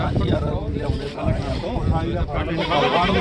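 A goat bleats a few times amid people talking nearby at a weekly goat market in a Punjab village, with some wind buffeting the microphone.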